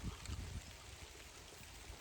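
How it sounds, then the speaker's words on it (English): Rain falls outdoors as a faint, steady wash of soft patter, with a few slightly louder splashes early on. "As I'm sitting out here in the rain recording this."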